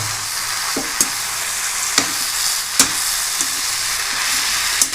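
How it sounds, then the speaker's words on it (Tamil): Black nightshade greens sauté in groundnut oil, a steady close sizzle broken by several sharp clicks of a spoon against the pan as they are stirred. "இப்போ நம்ம இந்த எண்ணெயில் இந்த கீரையை முதல்ல வதக்கிடலாம் பாருங்க நல்லா வதக்கிடுங்க"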